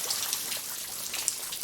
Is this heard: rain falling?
yes